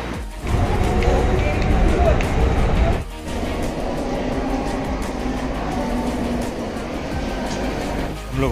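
Riding inside a moving train in India, with a continuous loud rumble and clatter of the carriage on the rails, broken briefly by a dip, and a voice speaking over the noise.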